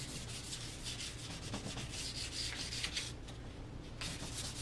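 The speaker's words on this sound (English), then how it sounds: "Sand it down with the 400." Light hand sanding of a wooden gun stock with 400-grit sandpaper: a steady, close rubbing rasp with quick back-and-forth strokes and no talking.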